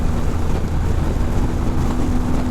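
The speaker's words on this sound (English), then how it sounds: "Loud engine noise, loud wind noise, loud buffeting" Loud, steady BMW 1250 or 1300 motorcycle engine drone, heard from the passenger seat, mixed with rough wind buffeting, a constant low rumble with fluttering gusts pressing against the microphone.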